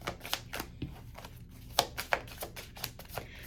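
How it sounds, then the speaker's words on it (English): Tarot cards being shuffled by hand, giving a series of soft, crisp riffling clicks and flicks spaced irregularly, close and fairly quiet with no talking. "And let me keep shuffling."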